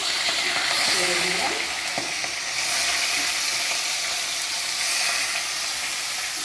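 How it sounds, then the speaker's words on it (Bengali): Hilsa fish frying in hot oil in a pan gives a loud, steady hiss and crackle that continues without a break from start to end. "তেল গরম হয়ে গেছে ইলিশ মাছটা"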